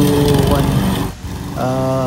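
A newly unboxed push lawn mower runs loud and close on stony ground, its engine note dipping briefly and rising again, with someone talking over it.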